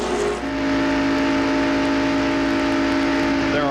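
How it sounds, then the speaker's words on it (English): NASCAR stock cars race at the 1995 Pepsi 400, a loud continuous engine roar with steady high-pitched tones. The engines drone on without a break for the whole stretch, close and dominant, and no voices are heard. "There are distinctive sounds, different sounds with these cars."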